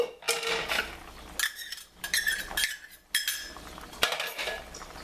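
A utensil clinks and scrapes against a pot while a fish vegetable stew with spinach, snow peas and scallions is stirred, in several bursts of metallic knocks separated by short pauses.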